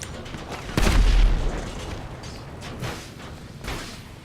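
A loud, deep boom bursts out, followed by a few fainter thuds and rumbles trailing off: vehicle explosions in the game FiveM.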